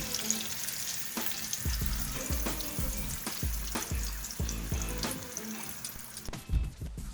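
Garlic herb Cajun salmon nuggets deep frying in oil, a quiet bubbling sizzle with repeated low thuds and splashy pulses, close and without speech.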